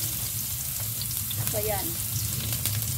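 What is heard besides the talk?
garlic sautéing in a pan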